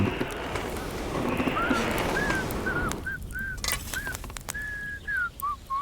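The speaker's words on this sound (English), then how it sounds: "Could you not whistle, please?" A character in Kingdom Come: Deliverance II whistles a short, repeated tune of clear tones over outdoor ambience, with soft footsteps and faint rustling as the background quiets partway through.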